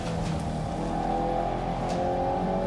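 A Volkswagen GTI-type hot hatch is pushed hard on a race track, its engine roaring steadily at high revs with tonal whine throughout, loud and close, with no talk over it.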